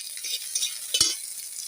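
Bay leaf, garlic, onion and green chili sizzle softly in a pan for a banana blossom fry, with a brief stir and a light scrape of a spatula partway through.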